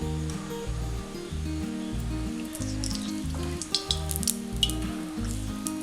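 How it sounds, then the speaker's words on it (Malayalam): Coconut oil in a hot pan for chicken mezhukkupuratti gives a soft sizzle with a few sharp crackles near the end, mostly buried under louder background music. "അതിലേക്ക് വെളിച്ചെണ്ണ ഒഴിച്ചു കൊടുക്കാം."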